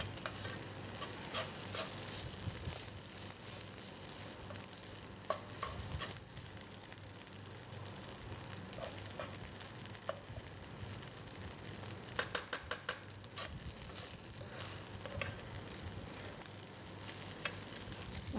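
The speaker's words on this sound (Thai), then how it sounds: "คลุกผัดคลุกเข้าไปนะคะ" Garlic fried rice sizzles steadily in a hot wok, smoking as the grains start to jump, with a spatula scraping and tapping against the metal in irregular clinks.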